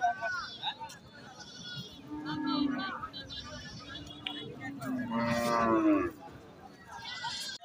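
Crossbred bulls lowing at a busy cattle market, several long drawn-out moos rising and falling amid other animal calls, fairly close, with people talking in the background.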